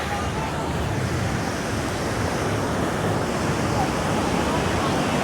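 Ocean waves washing onto Legian Padma Beach in Bali, a steady, full broadband roar of surf that holds constant and fairly loud throughout, with no clear break between sets.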